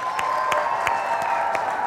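A studio audience on a sports television show claps in a steady, rhythmic beat, with sharp regular clap bursts over a continuous background hum, fairly close and moderately loud.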